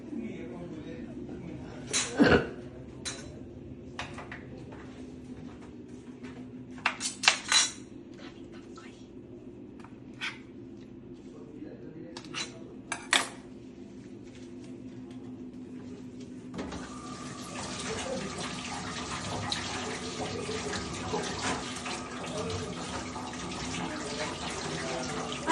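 Washing dishes at a sink, with scattered clinks and knocks over a quiet hum before running tap water pours steadily and loudly for the last stretch.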